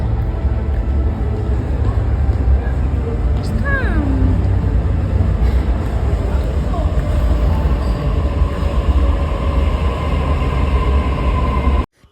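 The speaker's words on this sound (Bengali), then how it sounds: "ট্রেন এক্ষুনি চলে আসছে" A train arriving at a station, with a loud, continuous low rumble and rolling rail noise, a few squealing tones partway through, and a busy platform background that stops abruptly at the end.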